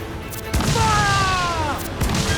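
Ship cannons fire in a naval skirmish in the video game Assassin's Creed IV Black Flag: a heavy boom hits about halfway through, and a second one lands near the end, with a voice calling out over the blasts.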